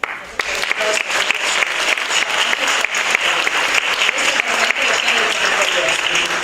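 Loud audience applause for a choir at a choral concert, many hands clapping in a dense, steady patter that starts abruptly and keeps going.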